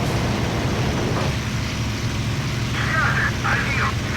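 Spitfire piston engine droning steadily in flight in the IL-2 VR flight sim, a loud continuous roar with wind rush, banking left after takeoff, with a few brief higher whines near the end.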